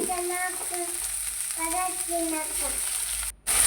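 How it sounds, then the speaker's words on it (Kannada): Onion and garlic sizzle in hot oil with a steady, close frying hiss throughout, while a voice speaks over it. "ಈಗ ಕಾದಿರುವ ಎಣ್ಣೆಗೆ ನಾವು ಸ್ವಲ್ಪ ಈರುಳ್ಳಿ ಹಾಗೆ ಸ್ವಲ್ಪ ಬೆಳ್ಳುಳ್ಳಿ"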